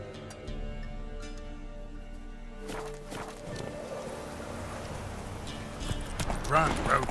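Hooves of Roach, a horse in The Witcher 3, clop along steadily under game music and ambience, the pace picking up toward a run near the end.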